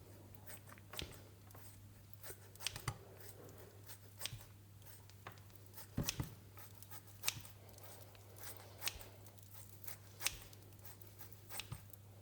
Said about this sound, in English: I have trouble cutting bacon. So I usually just use scissors.